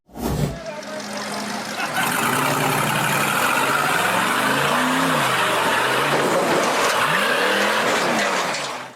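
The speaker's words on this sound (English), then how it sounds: "The white buggy accelerated from the gravel bank and charged straight up the steep rock face." A white off-road buggy accelerates from a gravel bank up a steep rock face, its engine revving loudly in repeated rising and falling surges, close and continuous, with crowd noise or voices underneath.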